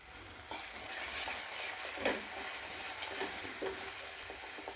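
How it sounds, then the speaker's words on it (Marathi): Spices with turmeric and coriander powder being stirred together in a hot pan for Hyderabadi chicken biryani, giving a continuous close sizzle with repeated scraping strokes of the spoon. "सर्व मसाले आता व्यवस्थित एकत्र करून घ्यायचे"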